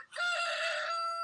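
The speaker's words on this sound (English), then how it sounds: "those are my chickens" A backyard chicken gives one close, loud, drawn-out call with a bright, harmonic tone that holds steady for about a second.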